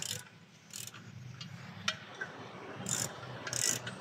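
A ratchet wrench tightens bolts on a 2022 Mitsubishi L300 Euro4 during clutch and transmission work, giving faint, sparse bursts of quick clicking with short pauses in a quiet space.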